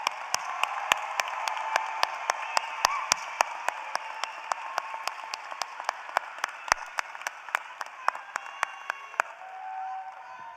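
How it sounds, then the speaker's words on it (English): An audience applauding the graduating class of 2022 at a college commencement ceremony, a sustained wash of clapping from a large crowd with distinct nearby hand claps ringing out, tapering off toward the end. "How about a big round of applause for the class of 2022?"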